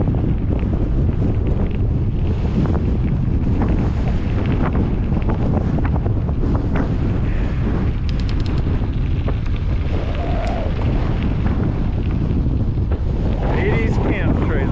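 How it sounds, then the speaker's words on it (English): Strong wind buffets the microphone of a cyclist riding a gravel route, a loud, constant roar filling the whole stretch with no break. "this wind is really hitting me"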